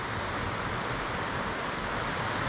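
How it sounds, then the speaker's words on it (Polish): Steady broadband rush of a waterfall on a Verzasca valley trail near Sonogno, a continuous close roar of falling water with no talk. "naprawdę bardzo ładny wodospad"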